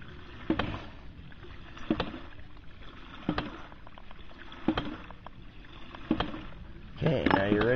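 A hydraulic ram pump converted from a modified foot valve works in the background, giving a regular pulse of sharp knocking thumps about every one and a half seconds, moderately loud against a quiet backdrop, with talk near the end.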